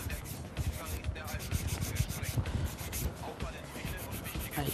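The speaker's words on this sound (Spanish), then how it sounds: "vamos a dar el limado de laterales, retirando por supuesto también los excesos" Acrylic sculpted nails get their sides filed with a hand nail file, a steady, close scratchy rubbing in quick repeated strokes that runs continuously, with no talk over it.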